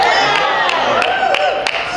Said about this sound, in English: How about a round of applause for Eric, everyone?